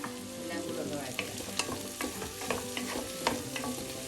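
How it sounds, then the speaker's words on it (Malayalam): Sliced shallots sizzle and fry in a pan for a Kerala-style chicken curry, stirred steadily with scraping spoon sounds and a constant close crackle, with no talking. "എല്ലാം കൂടെ ഒന്ന് വഴറ്റുക."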